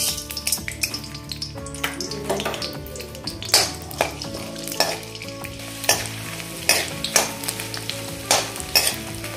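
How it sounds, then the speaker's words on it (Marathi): Edible gum (dink) frying in ghee in a pan, a continuous bubbling sizzle with repeated sharp scrapes and taps of a spoon stirring, close and fairly loud. "डिंक आपण थोडासा फ्राय करूया."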